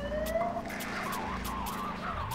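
Police car siren in a video game, a wailing tone sweeping up and down under steady engine and street noise, with a few short sharp bursts, no speech.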